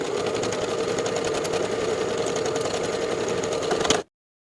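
A sewing machine runs continuously, edge stitching a dress hem close to the upper inner fold with a steady mid-level whir and rapid needle chatter, then stops abruptly near the end.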